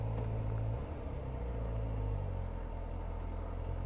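A motorcycle engine rumbling in first gear at low revs, a deep, steady, moderately loud drone with slight shifts in pitch, with no talk.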